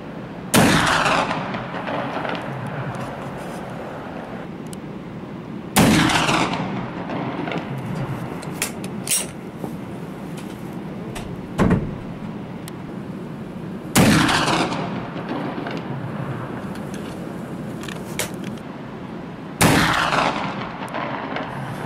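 Single shots from a Vetterli rifle, fired one at a time at a range: five sharp, loud cracks spaced several seconds apart, each followed by a short decaying report, with quiet ambient noise between them.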